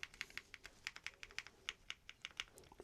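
Steady typing on a Womier ERA75 wireless aluminium mechanical keyboard, with a quick run of crisp, firm keystrokes close up and nothing else in the background.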